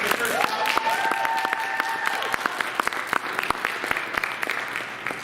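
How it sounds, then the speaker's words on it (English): An audience applauds and cheers a new member of a comedy troupe called the Jesters at a December show, steady clapping with scattered sharp claps, over which a voice calls out and whoops at the start. "Let's also give her a big round of applause."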